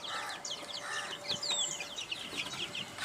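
Chickens cluck and chirp in a busy, continuous chorus, fairly close, with short sharp calls overlapping one another and no talking.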